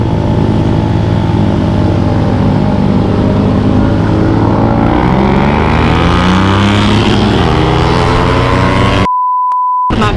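A Honda Supra X motorcycle accelerating under throttle on a Sunday group ride, its engine note loud and close, rising steadily in pitch for several seconds before cutting to near silence with a short beep at the end.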